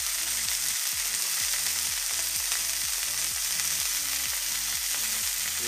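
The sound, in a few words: onions frying on a barbecue for breakfast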